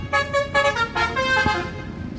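Horns toot in a busy bus terminal as a Gumarang Jaya bus pulls in, a few short musical honks close by over traffic rumble.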